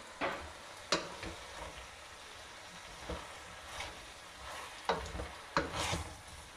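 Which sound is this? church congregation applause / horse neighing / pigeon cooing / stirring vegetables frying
stirring vegetables frying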